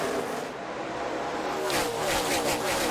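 NASCAR Xfinity stock cars race at Richmond, a loud, steady engine roar that builds and swells as cars sweep past, with no voices on top.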